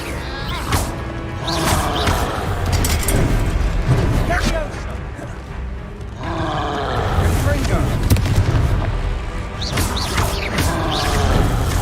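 Confringo blasting-spell explosions in the Hogwarts Legacy video game, repeated loud crashing booms and impacts in bursts, mixed with game noise and a player's excited voice.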